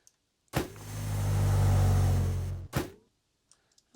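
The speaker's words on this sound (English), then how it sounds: "That sort of gives us the sound of the robot moving forward here." A robot moving forward, built as a sound effect with the Krotos Igniter engine-sound plugin: a short click, then a loud revving, motor-like surge that swells and cuts off, a second brief burst, and faint ticks afterward.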